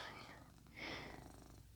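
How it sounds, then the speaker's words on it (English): A male cat purrs softly and steadily at close range, a quiet continuous rumble with faint breathy rises and no other sounds around it. "He's purring your little head off."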